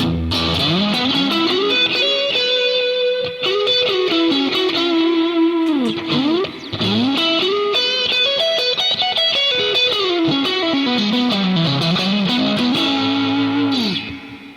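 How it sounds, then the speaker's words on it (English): An electric Stratocaster-style guitar on its neck pickup with moderate gain and no reverb plays a melodic line with bends and sustained notes, warm and slightly distorted, loud and unaccompanied. "We're going to go to a little bit of gain mode here in this neck pickup."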